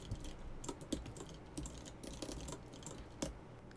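Keystrokes on a computer keyboard as a terminal command is entered while installing Plex Media Server: faint, irregular clicks in small clusters, close and quiet, with no talking.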